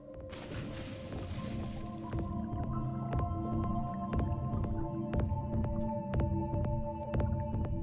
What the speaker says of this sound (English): Okay, I do not like the heartbeat.